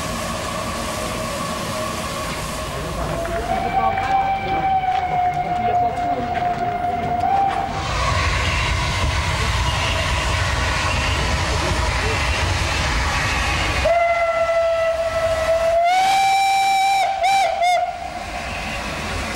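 Steam locomotive 141 R 840 arriving at Saint-Flour station in the Massif Central, loud and near, with long steam whistle blasts over the heavy rumble of the train, and someone speaking French over it.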